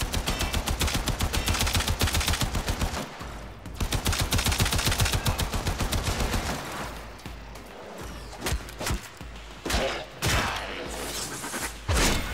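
Rapid enemy gunfire in the video game Warframe, loud dense bursts of repeated shots for several seconds, then a pause and scattered sharper shots and thuds toward the end.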